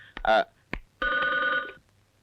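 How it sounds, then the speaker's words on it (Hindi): A telephone bell rings in one sustained burst indoors, following brief bits of talk and a sharp knock. "भाई साहब, आपका फोन"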